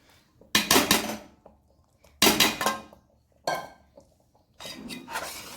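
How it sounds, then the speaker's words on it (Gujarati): Boiled chickpeas being mashed with a metal utensil in a pot for chole: four separate spells of clattering, scraping metal-on-metal knocks, close and fairly loud, with quiet gaps between and no speech. "આટલા ચણાને આપણે આના વડે એકદમ સરસ ભૂકો થાય એવી રીતે કરી દઈશું"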